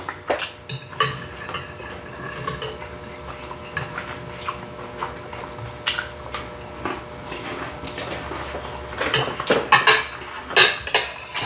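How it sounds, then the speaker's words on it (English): A butter knife cuts through chicken fried steak on a plate, with scattered clinks and scrapes against the dish that build toward a busier cluster near the end, and no talk. "That ain't nothing but a butter knife going through"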